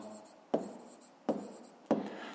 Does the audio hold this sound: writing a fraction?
yes